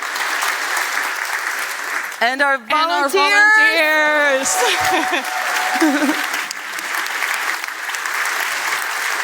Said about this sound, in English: More applause.